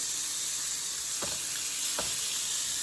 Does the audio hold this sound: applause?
no